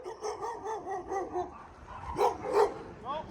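A dog in a family home in Canada barks in a short run of yaps and bow-wows, at moderate distance, under a low background murmur.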